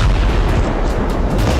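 Heavy explosions from an overnight Israeli army bombardment in Gaza form a loud, dense barrage of deep booms and rumbling blasts that run together with almost no pause, close and overpowering, with no voices.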